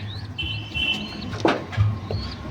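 Pigeons around a loft pen, with chirps and a brief flurry of wing flaps over low cooing, nearby and moderately loud with no talk.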